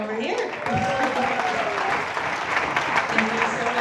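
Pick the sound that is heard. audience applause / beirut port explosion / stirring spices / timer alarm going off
audience applause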